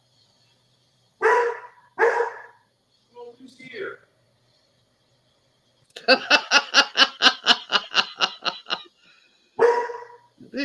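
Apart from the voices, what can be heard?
dog barking at the door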